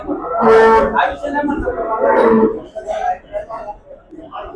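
A Jersey cow at the Chakan cattle market lets out a loud, close, drawn-out moo, then a second, shorter lowing call. Quieter voices and market noise follow.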